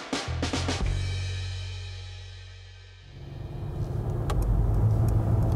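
A car cruises along the Primorska motorway in Slovenia, a steady road hum and tyre rumble that fades to a quieter stretch before swelling again as the vehicle rolls on, with a few sharp clicks near the start.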